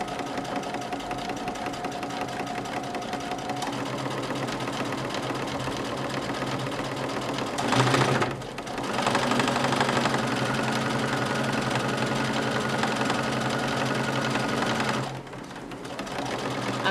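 A sewing machine stitching fabric while making a fabric wall planter, with a steady fast mechanical whir running continuously, one short pause partway through and a brief dip near the end.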